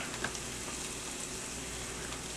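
Wild mushrooms and onion sauteing in pure olive oil in a pan, a steady, soft sizzle with faint crackles, continuous and close, with no talking.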